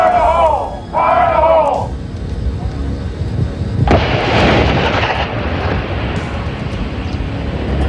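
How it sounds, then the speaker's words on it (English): Marine explosive charges detonate on simulated targets, a heavy blast bursting in after a brief, distant voice-like call, followed by a long rumbling roar and debris wash that slowly fades. "these Marines are rigging explosives on simulated targets"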